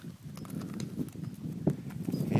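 Hooves clip-clop at a slow, uneven walking pace close by, with a low rumble of movement underneath and no talking.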